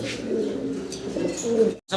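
Low, throaty cooing from German Beauty pigeons repeats steadily up close, with a brief silent gap just before the end.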